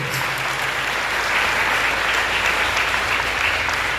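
A large audience at a literary award ceremony honouring a singer gives loud, continuous, evenly sustained applause, a dense wash of clapping with no pauses.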